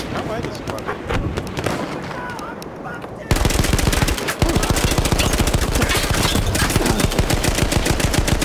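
Rapid machine gun fire in the Battlefield 1 beta on the Sinai Desert map, a loud continuous burst of rattling shots that kicks in partway through after scattered distant gunfire, with a voice talking over the action.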